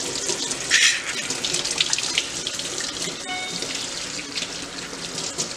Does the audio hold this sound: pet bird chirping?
no